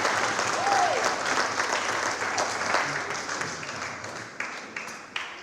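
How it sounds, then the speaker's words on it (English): Audience members at a church ministry event give a speaker a round of applause, a full, sustained roar of clapping that thins toward the end into a few scattered, louder claps. "why don't you give him a round of applause"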